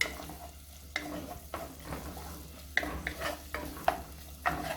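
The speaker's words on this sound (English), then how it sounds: "I'm going to saute that up for a minute or two just to release up some flavor there" Onion and garlic sautéing in a pot for Jamaican turn cornmeal, with a steady low sizzle and several sharp stirring scrapes spaced through the stretch, close and moderately loud, no talking.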